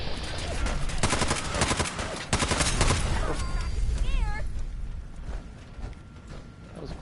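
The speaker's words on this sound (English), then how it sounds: "He's shooting." Gunfire in the video game Fallout 4: rapid automatic bursts, loud and close in the first half, fading to scattered sounds, with brief chirping tones and a voice speaking.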